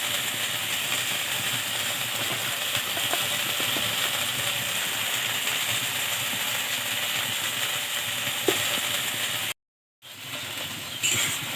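Kochu shak (taro leaves) being sautéed in a pan, a dense, continuous loud hiss and sizzle with faint stirring clicks, briefly cutting out near the end before resuming, no talk.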